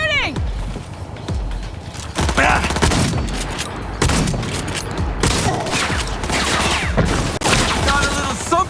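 Intense gunfight in the video game Cyberpunk 2077, dense bursts of automatic fire and sharp shots overlapping with mechanical clanks and impacts, loud and continuous, with voices shouting under the shooting.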